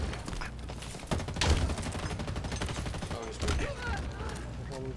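Rapid bursts of gunfire crackle in a Halo Infinite multiplayer match, dense overlapping shots with heavier booming hits around the middle and near the end, loud and continuous, mixed with game effects.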